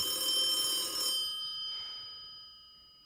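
A telephone rings with a bright, metallic electronic trill for about a second, then a fainter second ring follows and fades away into quiet, with no talking.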